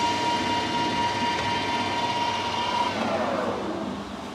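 Metal lathe spinning at 1,000 RPM with carbide tooling, a steady mechanical hum with a sustained whine that holds level, then drops in pitch near the end as the spindle slows.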